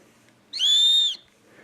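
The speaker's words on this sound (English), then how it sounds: "and then you have a whistle" A single shrill blast from a fire-starting kit whistle, steady and piercing, lasting about half a second in an otherwise quiet setting.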